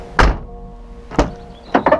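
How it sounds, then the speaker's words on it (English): A Peugeot 206 car door closing with a fitted restrictor: three heavy thunks, one near the start, another about a second later, then a quick double knock at the end, close and solid. "And on that side, the door works."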